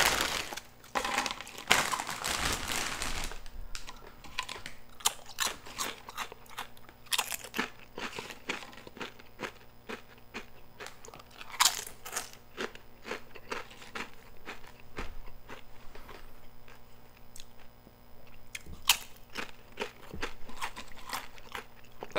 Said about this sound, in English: Let me get a couple more Doritos